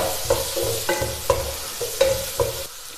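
Onion and slit green chillies sautéing in a pan, a steady close sizzle broken by several sharp scraping stir strokes at an irregular rhythm, with no voices.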